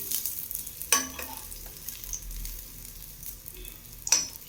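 A chickpea patty fries in a pan with a faint steady sizzle, and two crisp scraping clicks from a spatula flipping it stand out about three seconds apart, close and quiet.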